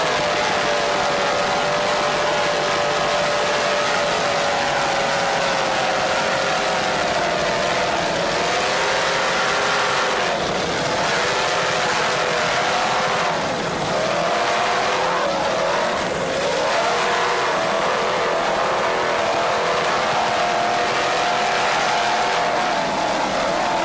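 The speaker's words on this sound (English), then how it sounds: "These Innovation inboards sound excellent." Innovation inboard racing powerboats roar past near a beach, their engines a loud, sustained high-pitched whine that wavers and bends in pitch as the boats pass and turn, continuous throughout.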